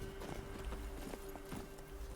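Roach the horse gallops in a Witcher 3 game scene, a quick rhythmic clip-clop of hooves under a steady low tone, moderately close and fairly faint.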